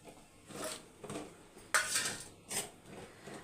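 Green chilies, shallots and garlic tipped into a metal cooking pot for a Tamil egg dish, a few soft clattering knocks and scrapes of utensil against pot, fairly faint and spaced out, no voices.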